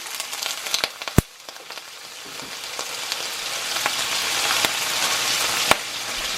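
Chopped onions and mushrooms sizzling in a hot pan for a meatball sub sauce, a steady crackling fry with scattered sharp pops and clicks, close and alone without talk.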